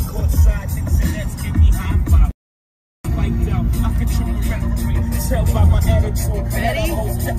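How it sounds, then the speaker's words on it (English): A car drives through New York City traffic in Manhattan, its steady engine and road rumble close and loud, cut by a brief dropout, with voices talking over it. "Driving in New York! Manhattan!"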